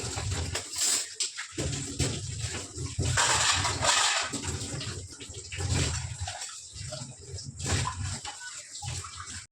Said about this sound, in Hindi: बस अब मैं जो है गेहूं धो लूंगी